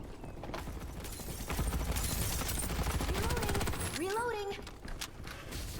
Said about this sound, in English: we start getting fired upon